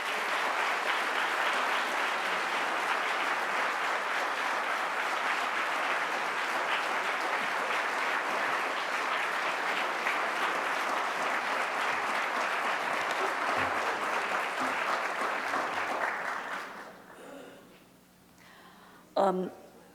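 Sustained audience applause welcoming lecturer Mary Beard to the podium at a biography lecture, a loud steady wash of clapping from a large crowd that holds for about sixteen seconds before fading out.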